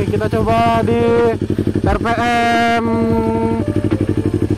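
A Yamaha R25 fitted with a Kazen Proexhaust DENT 33SS exhaust holds steady at about 3000 RPM, giving an even, low exhaust drone that runs through the whole stretch while someone talks over it.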